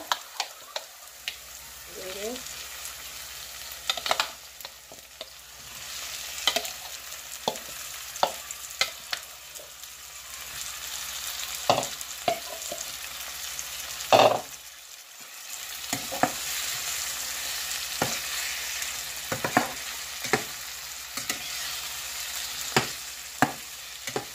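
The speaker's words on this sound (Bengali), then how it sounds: "এভাবে একটু লো হিটে আমি কষতে দিব 10 মিনিট" Fish and onions frying slowly over low heat, a steady soft sizzle with scattered pops and utensil scrapes near the pan, fairly quiet throughout.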